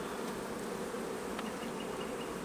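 Honeybees buzz steadily in an open hive during a comb change, a dense continuous hum close to the ear with no talk over it.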